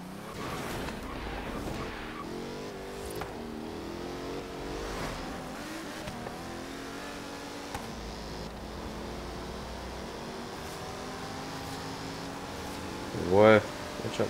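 A Pagani Huayra BC with a twin-turbo 12-cylinder AMG engine of 800 PS, driven in the racing game Forza Horizon 3, revs steadily and loudly throughout, with rising and falling engine tones as it accelerates and shifts, and a brief louder burst near the end.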